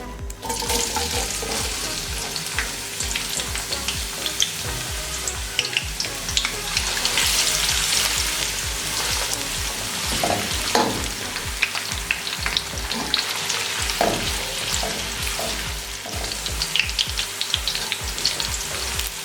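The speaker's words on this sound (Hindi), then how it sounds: "अब इसमें प्याज डालेंगे और इसको गोल्डन होने तक फ्राई करेंगे।" Sliced onions frying in half a cup of hot oil for chicken biryani, a steady dense sizzle with frequent stirring clatter throughout, close and fairly loud, with no talking.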